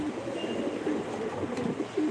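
Pigeons cooing at a loft, a steady low murmur of soft overlapping coos with no talk.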